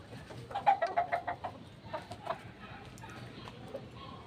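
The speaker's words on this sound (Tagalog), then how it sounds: "ang panglaban natin na manok" A fighting rooster clucks in a quick run of sharp, throaty notes close by, then quieter scattered clucks trail off over soft background noise.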